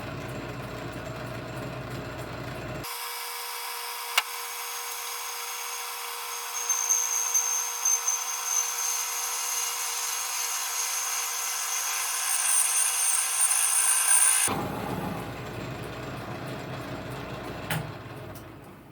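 A lathe tool cuts a nylon roller on a loosely held tool post, giving a steady high-pitched machining whine with a faint squeal, bracketed by a lower motor hum at the start and end.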